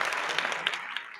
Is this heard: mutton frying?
no